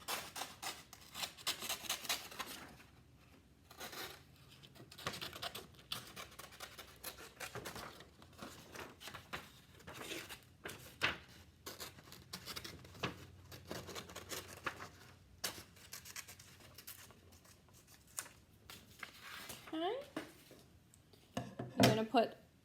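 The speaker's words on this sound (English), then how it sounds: "I'm going to use my scissors and cut out that circle." Scissors snip through a paper plate to cut out a traced circle, giving irregular crisp cutting and rustling sounds at close range, broken by pauses and handling noise.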